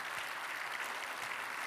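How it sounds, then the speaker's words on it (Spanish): A church congregation applauds steadily, a dense, even wash of many hands clapping at moderate volume with no pause. "Dale una ofrenda de palmas al Señor."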